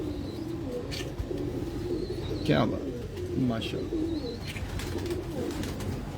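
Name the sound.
pigeons cooing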